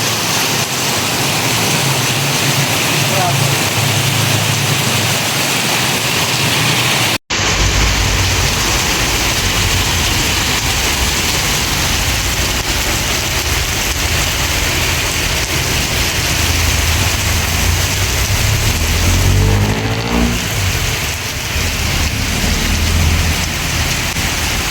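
Heavy rain pours down steadily and loudly, a dense continuous roar of water beating on surfaces, with a brief break partway through before the downpour resumes just as strong.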